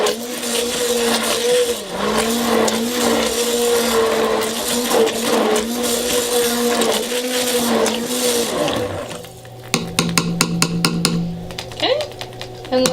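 A stick blender whirring through soap-making base oils and lye water, its motor droning in repeated pulses with a rising and falling pitch, then stopping and giving way to clattering and tapping.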